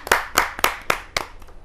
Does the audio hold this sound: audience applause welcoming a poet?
yes